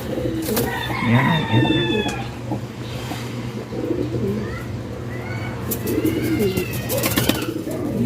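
Pigeons being paired up in a loft in Manila, giving soft repeated coos and calls over a steady background hum, with a brief word spoken near the start.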